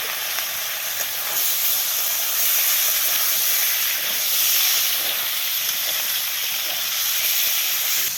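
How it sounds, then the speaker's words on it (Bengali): Pieces of chicken fry in hot oil, a loud continuous hiss and sizzle that swells slightly and fades, with no voices. "মুরগির মাংসগুলো ভালো করে ভেজে নেবে"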